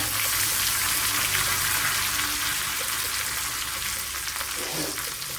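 Dried red chillies and curry leaves fry in hot coconut oil with a loud, steady crackling sizzle that carries on close and unbroken, with faint stirring beneath.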